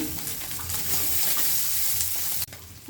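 Steady, crackling sizzle of small kachki fish frying in hot oil, close by and fairly loud, breaking off briefly near the end.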